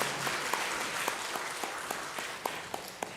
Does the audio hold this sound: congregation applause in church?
yes